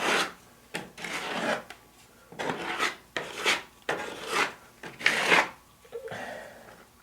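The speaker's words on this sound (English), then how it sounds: "And then it's just kind of sanding, and that's it." Sandpaper rasps on the corner of a wooden Midway Pac-Man Cabaret mini arcade cabinet being restored outdoors, close and fairly loud in about seven rhythmic back-and-forth strokes with short gaps between them.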